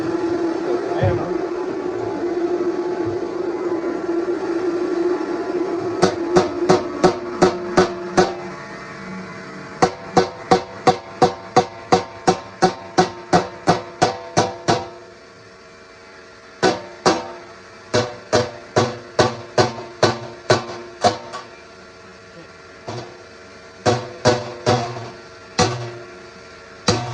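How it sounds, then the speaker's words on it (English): Repeated hammer strikes tacking something down, in quick bursts of sharp, evenly spaced blows with short pauses between runs, loud and close; a hum and faint voices underlie the first few seconds. "Take the hammer."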